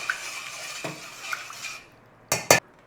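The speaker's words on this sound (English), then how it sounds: "Give it a mix." Ribs stirred in a bowl of water with about a teaspoon of baking soda for a Chinese takeaway preparation, a soft watery swishing with light clinks against the bowl, ending in two sharp knocks.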